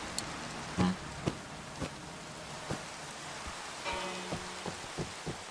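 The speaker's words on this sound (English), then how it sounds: "Oh, and it's raining." Rain falls steadily in Minecraft as a soft hiss, with scattered louder drip-like ticks and pops over several seconds and no talking.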